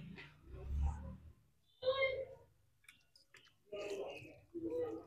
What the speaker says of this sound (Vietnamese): Lúc nó cắn thì rôm.